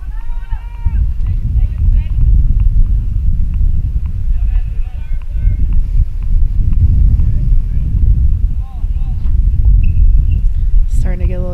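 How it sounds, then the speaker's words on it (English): Gusty wind buffets the microphone at an outdoor tennis court during a women's conference championship final at the USTA National Campus: a loud, continuous low rumble that surges and eases throughout, with faint voices underneath. "Starting to get a little gusty out here with the wind."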